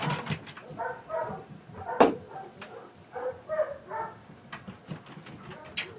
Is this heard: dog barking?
yes